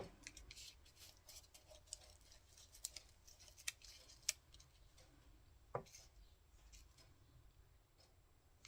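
Scissors snip paper for a handmade card in a quiet room, a scattering of faint, sharp clicks and cuts at an irregular pace.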